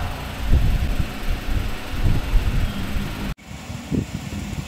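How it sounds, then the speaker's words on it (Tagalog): An electric fan runs on speed setting 3, a close, steady whooshing drone with low throbbing buffets, briefly interrupted before it continues. "nakabukas ang electric fan natin. Naka number 3 po yan."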